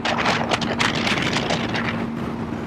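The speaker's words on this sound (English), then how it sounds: "Very, very windy." Steady wind buffets the microphone throughout on a trail in Michigan's Upper Peninsula, a constant roar with gusty surges, alongside a low engine-like drone.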